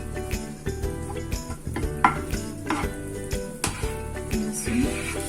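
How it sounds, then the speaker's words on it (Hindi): Vegetables, onion, garlic and spices fry in butter in a pan for a cheese and paneer sandwich, with a steady soft sizzle under repeated clinks and scrapes of a spoon stirring against the metal. "अब हम पैन में प्याज और लहसुन डाल के मसाले डालेंगे इन सब्जियों में"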